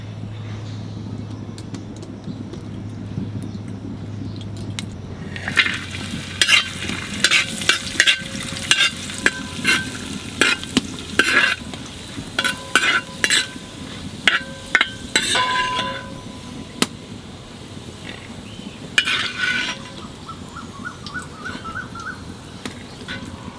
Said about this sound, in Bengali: কাজু বাদাম আর কিশমিশ ভাজে তুলে রাখবো।